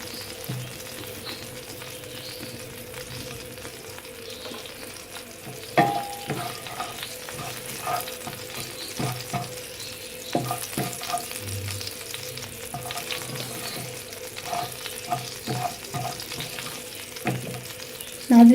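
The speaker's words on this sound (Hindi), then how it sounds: "ख्याल रहे कि चम्मच साथ साथ हिलाते रहें ताकि मसाला जलने ना पाए।" Masala frying in a pan for potato samosa filling, a steady close sizzle under repeated scraping clinks of a spoon stirring, with a few sharper knocks toward the end.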